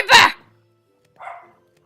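Two short, sharp barks from a dog in a video game, one loud, then a softer one about a second later, clean and isolated.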